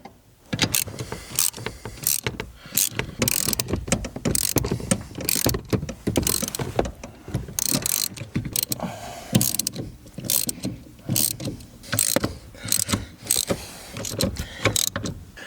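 Nuts come off the blower motor of a 2011 Ford Fiesta under a ratchet, heard as fast bursts of close metallic clicking that repeat in quick runs with short pauses between them.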